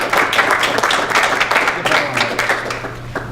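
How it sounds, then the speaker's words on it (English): Audience applause for friends, families and teachers at a military signing ceremony, steady dense clapping from a crowd with some voices mixed in. "give a round of applause for our friends here, our families here, and our teachers here"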